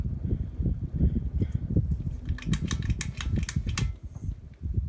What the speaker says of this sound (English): I'm trying to hold the fan so it doesn't wobble so much.